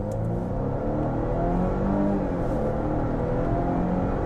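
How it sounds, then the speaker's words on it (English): Volvo V60 Cross Country wagon engine revving from about 2000 RPM and accelerating hard, a steady loud low drone that holds throughout with no talking. "So I'm just gonna give her about 2000 RPM and let it rip."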